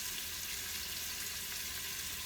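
Chopped bacon sizzles in a pan with a steady, even crackling hiss that holds close and constant, with no talk.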